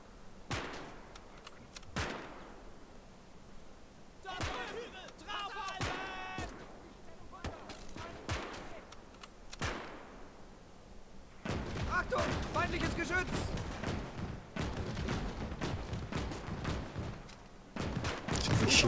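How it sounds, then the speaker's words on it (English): Scattered gunshots from a World War II Finland campaign battle near a German headquarters in the strategy game Gates of Hell, sharp cracks spread across the scene with a denser burst of firing later, while a voice speaks between the shots. "Somebody's shooting it."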